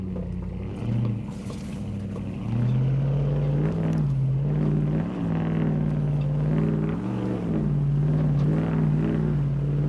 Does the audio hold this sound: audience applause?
no